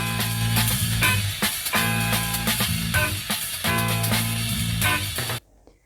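A sampled song plays back unprocessed with a steady bass line, chords and percussive hits, loud and continuous, then cuts off abruptly near the end, leaving near silence.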